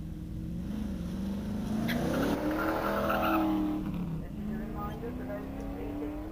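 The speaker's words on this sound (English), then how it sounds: "Here's Peter Ash in his TVR, perennial driver of this TVR Griffith with its 5 litre Range Rover base V8." TVR Griffith race car with a 5-litre Range Rover-based V8 climbing the Prescott hillclimb, its engine note rising and shifting as it passes nearby, heard under a commentator's voice.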